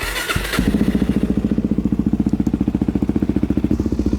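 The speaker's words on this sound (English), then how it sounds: "So we're gonna warm the bike up real quick." A Suzuki DRZ400 supermoto fires up after a brief cranking stutter, then settles into a loud, close single-cylinder idle with a steady, even chugging pulse while warming up.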